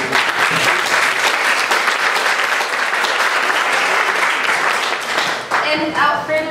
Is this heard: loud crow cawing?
no